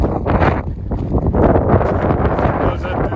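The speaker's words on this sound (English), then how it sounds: "It's windy through here." Steady wind blustering and roaring against the microphone on a mountain trail near a canyon, loud and continuous throughout with gusty rumble.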